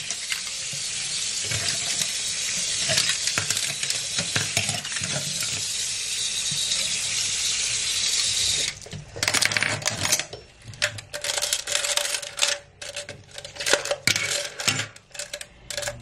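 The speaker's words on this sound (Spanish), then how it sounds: "lo estoy enjuagando con agua caliente" Hot tap water runs in a steady, close hiss over metal tools being rinsed for cleaning and disinfecting, then cuts off as sharp metallic clinks and clatters of the tools knocking together follow irregularly, with no talking.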